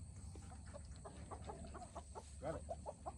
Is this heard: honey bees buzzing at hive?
no